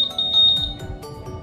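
A keyless remote system being set up on a 2017 Honda Scoopy scooter gives a short, sharp electronic beep up close, followed by faint handling clicks.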